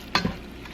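Browned ground beef being stirred in a cooking pot, with one quick scrape of the utensil and a short sizzling burst that fades into a quiet hiss.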